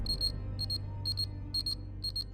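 A pager beeps in repeated bursts of quick paired high-pitched chirps, four or five groups spaced evenly over a low steady background hum.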